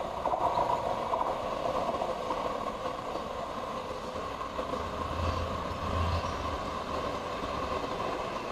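A distant light rail train rumbles past steadily, a continuous low rolling noise with faint rail clatter, no voices.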